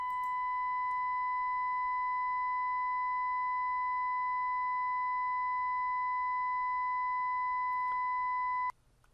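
A steady 1000 Hz sine calibration tone holds loud and unbroken for about nine seconds, then stops abruptly.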